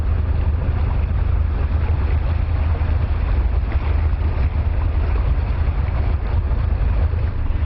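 A motorboat cruising along the Caledonian Canal drones steadily under heavy wind rumble, a constant low churning with no voices.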